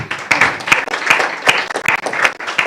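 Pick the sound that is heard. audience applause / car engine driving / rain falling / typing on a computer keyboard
audience applause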